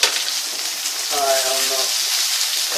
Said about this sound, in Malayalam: അതിനുശേഷം സവാള ചേർക്കുക. സവാള ഇട്ട്